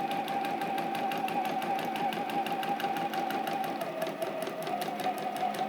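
A sewing machine stitches a patchwork quilt block seam at a tight 1.5 mm stitch length, giving a steady, rapid, even mechanical whirring pulse up close without pause.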